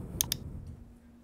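Two quick, crisp computer mouse clicks in rapid succession on a website button, close and clear, followed by quiet.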